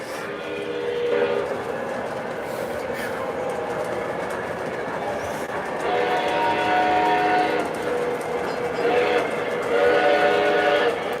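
An O scale model cab forward locomotive running on its track, a continuous rolling rumble with whistle-like tones swelling at intervals, fairly close and steady throughout.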